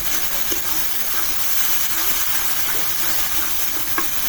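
Onion and spice paste frying thick in oil in a pan for a Bengali mixed fish curry, a steady close sizzle and hiss that stays constant throughout, with a few faint stirring taps.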